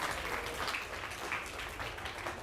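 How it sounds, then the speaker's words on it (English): Steady applause from a small group for a teammate after a design presentation, a fairly faint, even patter of clapping with no talk. "Give your teammate a round of applause."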